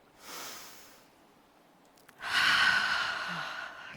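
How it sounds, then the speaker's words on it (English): A conference audience draws a deep breath in together and then lets it out, two broad breathy swells, the exhale louder and longer, with no talking. "can everyone with me please take a deep breath in and then another breath out?"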